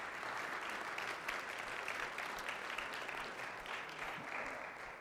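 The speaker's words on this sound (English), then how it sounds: "Have just a quick round of applause for them." A congregation at a church meeting applauds its committee in a quick, steady round of dense clapping that holds evenly throughout, moderately loud and filling the room.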